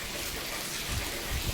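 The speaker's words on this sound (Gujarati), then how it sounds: "આવી ગયો જો આજ વરસાદ" Steady rain pours outdoors during the monsoon in Gujarat, a continuous broadband hiss with low rumbling swells, fairly loud and unbroken with no talk over it.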